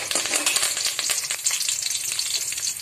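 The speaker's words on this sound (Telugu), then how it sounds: "దాంట్లో ఆనియన్ వేసుకోవాలి. బ్రౌన్గా వేయించుకోవాలి." Onion frying in a pan until brown, a loud steady sizzle running throughout, with faint crackles and stirring scrapes and no voices.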